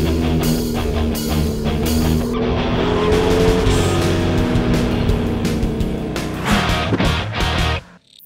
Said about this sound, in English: now I get to drive it. The 2013 Scion FR-S.